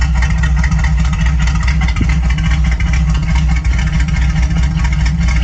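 A car engine with a choppy cam idles loudly and close, with a lumpy, uneven choppy rhythm pulsing steadily throughout.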